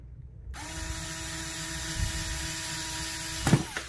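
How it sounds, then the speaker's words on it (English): An old Ryobi electric screwdriver with a flathead bit backs screws out of an electrical outlet, its motor starting abruptly with a steady close whine, plus a brief clunk near the end. "flathead bit on the old Ryobi electric screwdriver"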